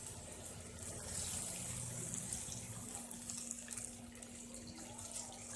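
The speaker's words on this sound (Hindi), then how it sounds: "थोड़ा सा पानी डाल देंगे" Water poured into a cooking pot of potatoes and minced meat keema for aloo keema curry, a steady splashing pour with a low hum underneath, continuous and fairly close.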